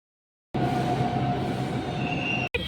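A metro train runs with a steady loud rumble and a faint wheel whine, heard from close by. It cuts in abruptly and stops just as abruptly.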